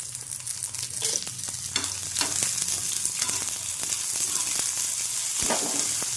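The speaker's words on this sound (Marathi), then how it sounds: "मिरच्या तीळ खोबरे व्यवस्थित भाजून घेणार आहोत आता थोडेसे तेल टाकून कांदा पटकन लाल होण्यासाठी" Chilies, sesame, coconut and onion roast in a little oil for a drumstick curry, a continuous bright sizzle with occasional stirring scrapes, close and steady with no talk.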